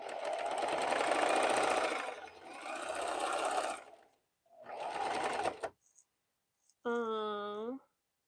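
A sewing machine stitches quilt pieces in steady mechanical bursts, running loudly for several seconds with brief pauses, while a person hums or vocalizes a short tune near the end.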